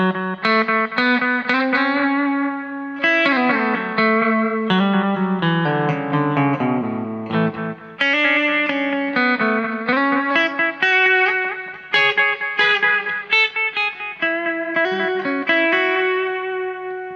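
Distorted electric guitar notes played in phrases through a cheap delay pedal, each followed by audible echoing repeats that smear into the next notes, loud and up close.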